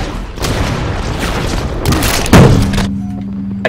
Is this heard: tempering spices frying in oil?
no